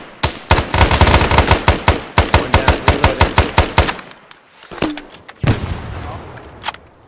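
Rapid rifle fire rattles in a fast, steady string of loud close shots during a firefight training exercise, then breaks off into a few scattered single cracks and a brief voice.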